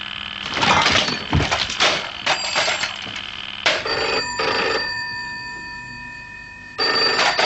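Telephone ringing indoors in a 1980s setting, loud repeated electronic trilling bursts with brief gaps, clear and close with no talk over it.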